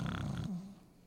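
A voice imitates snoring with a brief, raspy nasal rumble lasting under a second, close and soft, trailing off into a quieter low exhale.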